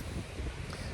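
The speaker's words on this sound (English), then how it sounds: "You can probably hear the wind and the waves" Steady wind buffets the microphone at a shore while waves wash in beneath it, a continuous broadband rush with no distinct breaks.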